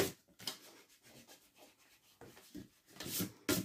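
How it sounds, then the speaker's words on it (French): An eraser rubbing out small pencil marks on a mini album made from craft blocks, quiet irregular scrubbing strokes in short bursts, close and faint with no talking. "Ensuite, je vais gommer tout de suite mes petites indications."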